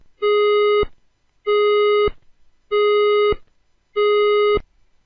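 A fire alarm's evacuation-preparation tone sounds in four evenly spaced electronic buzzing beeps, each about half a second long, separated by brief silences.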